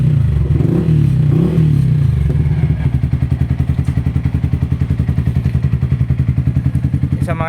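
A Yamaha Sniper 155 motorcycle with a short exhaust pipe idles with a loud, close, rapid putter, starting as a low rumble with a brief wavering rev and settling into a steady, evenly pulsing exhaust beat.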